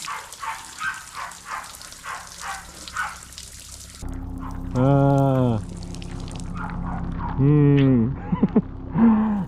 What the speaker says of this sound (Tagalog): tapos na kami mag-shower mga kapanalig